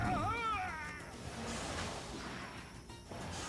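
A cat in the video game Wartales meows in a single clear, rising-and-falling call near the start, heard up close over a steady bed of game ambience and background music.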